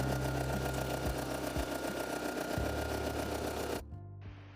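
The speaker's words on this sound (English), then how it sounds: "Now I'm changing my thread to white and doing the first eye stitch." An embroidery machine stitches a white eye onto the fabric of a Yoshi plush, giving a close, steady, fast buzzing hum with a few soft periodic thuds before it cuts out near the end.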